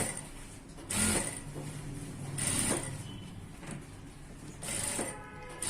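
Sewing machine running a round seam to attach a garment sleeve: quiet mechanical whirring that swells in three or four short bursts of stitching, separated by softer pauses.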